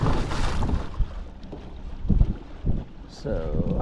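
Wind buffets a small fishing boat out on the water, a rough, gusting rumble up close, with someone talking over it at times.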